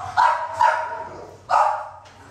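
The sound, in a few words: XL pitbull dog barking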